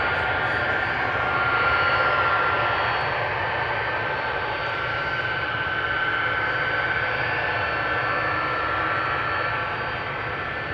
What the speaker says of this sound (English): This is Delta Airlines, flight 133, A330, going to Detroit, Michigan in a few minutes.